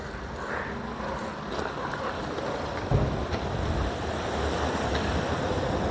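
Steady outdoor wind roar with broadband rushing noise and a continuous wet hiss, like gusting wind with rain, no voices, in Cloyne, County Cork, Ireland.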